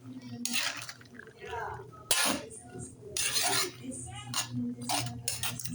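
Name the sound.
stirring string beans and eggplant in a pot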